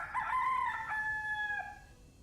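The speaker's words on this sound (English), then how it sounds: "He even had a professional chicken on set." A rooster crows on a photography set, one drawn-out cock-a-doodle-doo with a rising, wavering tail, fairly soft and heard alone.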